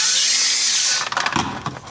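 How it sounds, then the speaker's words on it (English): A small Dremel rotary tool cuts into an intake flange on a Subaru Legacy wagon, a high steady whine for about a second that breaks into choppy, grinding bursts as the bit bites the part. "So I got my little Dremel here"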